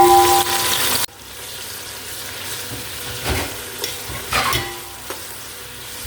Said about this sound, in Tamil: பெரிய வெங்காயம். ஒரு வெங்காயத்தை போட்டுப்போம்.